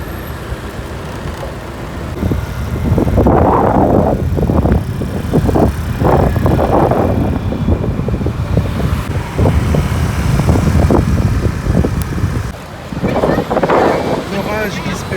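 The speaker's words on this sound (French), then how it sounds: "j'ai vu des éclairs et le vent s'est mis à souffler très fort." Strong wind before a storm buffets the microphone with a constant roar, while a person speaks intermittently beneath the rumbling gusts, in Da Nang, Vietnam.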